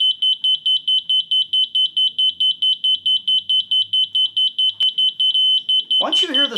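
A Stabila LA 90 laser layout station receiver gives rapid, evenly pulsed high-pitched beeps that run together into a steady solid locking tone, close and clear, before a voice begins speaking at the end.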